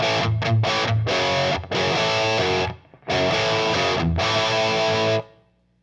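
Distorted electric guitar played as tight rhythm chords through a Line 6 Helix modelling a Mesa/Boogie Mark V with a short reverb, loud and close in chugging bursts with brief gaps, no talking.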